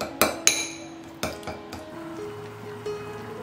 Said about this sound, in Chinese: 把南乳给它捣碎。